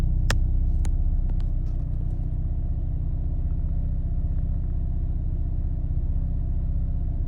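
Hyundai N car engine idling around 1,000 RPM in custom mode with the AC on, a steady low rumbling throb that holds even and close throughout, with a few faint clicks near the start.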